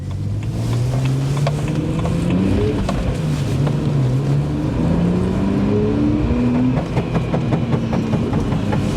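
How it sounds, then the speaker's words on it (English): A BMW 130i with its N52 engine revs while driving, the pitch climbing steadily through the gears with a rising, rasping drone over constant road roar, loud and continuous throughout. "That N52 engine trying to scream away."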